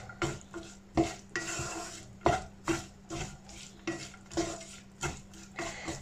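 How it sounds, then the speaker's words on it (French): Ground ginger and chopped garlic are stirred in a pan with a utensil, giving a steady rhythm of close scraping strokes and metallic clinks against the pan over a soft background sizzle. "Puis on mélange le tout."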